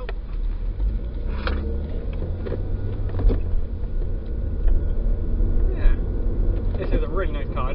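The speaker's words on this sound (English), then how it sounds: "Really nice car, I don't know if you heard it" Inside a Hyundai Veloster Turbo, the engine makes a low, steady drone and rumble while driving in traffic, with mechanical rattles and a person talking over it.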